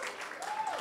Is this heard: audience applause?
yes